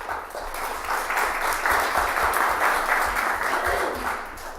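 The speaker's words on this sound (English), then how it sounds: "Please hold your applause till the end." Audience applause following a candidate's closing thanks at a 2014 AAUW candidates forum, steady clapping from a room of people held for several seconds, fairly close and even throughout.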